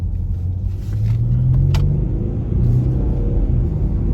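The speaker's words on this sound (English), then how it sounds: "that will allow me to demonstrate the pickup on this car" A 2013 Mercedes ML350 3.0L Bluetec diesel accelerating from 10 mph, heard from inside as a loud steady engine rumble that deepens and builds as it pulls, with brief faint clicks and no talk.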